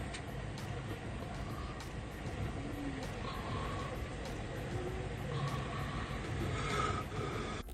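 Big truck rolling past on a road, a low, rumbling engine drone and tyre noise that builds and fades at moderate distance, with a voice talking over it.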